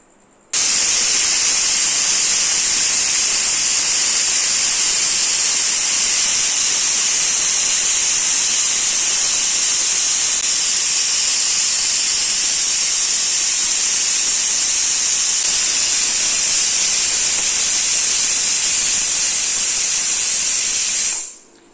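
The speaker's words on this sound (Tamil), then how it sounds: "இப்போ 6 விசில் வந்துருச்சு." A pressure cooker of rasam rice on the stove vents steam in one loud, steady, close hiss with a high whistling edge, running unbroken for about twenty seconds before cutting off abruptly, with no voices.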